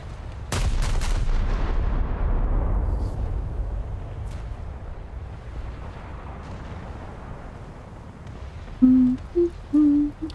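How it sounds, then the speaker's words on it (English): Heavy 16-inch naval guns fire in the naval battle game War Thunder, a loud booming blast followed by a long rumbling decay, then a few short tonal game interface beeps near the end. "Because 16-inch guns are 16-inch guns."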